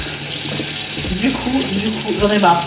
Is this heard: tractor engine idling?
no